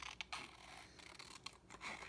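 Scissors snip diagonally across a sheet of paper for a junk journal page, a few quick, crisp close cuts, faint and with no talk.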